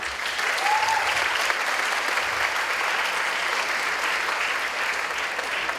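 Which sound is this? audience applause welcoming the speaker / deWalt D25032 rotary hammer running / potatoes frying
audience applause welcoming the speaker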